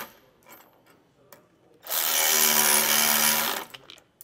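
A power tool runs in one loud, steady burst lasting under two seconds while tightening U-bolts during a Roadmaster steering stabilizer install on a 2014 Ford, set between quieter handling noises.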